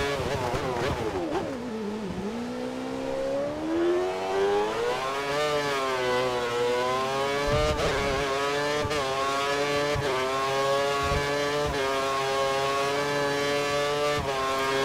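In the F1 2013 racing game, a Formula 1 car laps Suzuka with a continuous high-pitched engine whine that climbs and dips through gear changes, with sharp shift cuts, steady and loud throughout.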